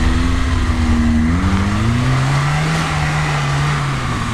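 A lifted Lada Niva on winter tyres pulls away, its engine revving up steadily and loudly close by with a rising, droning tone, over tyre and road rumble.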